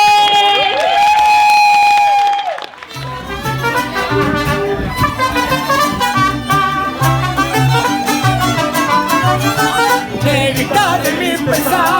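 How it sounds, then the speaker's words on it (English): Wedding guests clap and cheer after the speeches. A held tone comes first, then a dense, loud burst of crowd applause and whoops continues for about nine seconds, with voices mixed in. "round of applause for all the speeches!"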